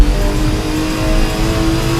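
Porsche 936 race car engine in a video game, revving hard and steady throughout a hot lap around a vintage street circuit in Napoli, loud and continuous with no talk.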